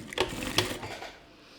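A sewing machine runs a short stitch along the folded edge of a tote bag lining, two quick close bursts of mechanical whirring fading into quiet.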